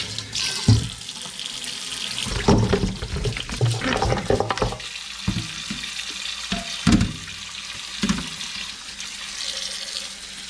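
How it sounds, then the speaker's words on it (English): Pork bones and meat washed under a running faucet into a sink, with steady water flow and irregular splashing and clunking as the pieces are rubbed and handled nearby. "you wash it until the water is completely clean"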